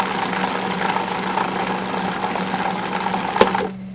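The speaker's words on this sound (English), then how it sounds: "I'm going to puree that again." A kitchen blender purees blueberries with freshly squeezed lemon juice for a no-bake cheesecake, a steady close whirring drone that runs unbroken and then cuts off near the end.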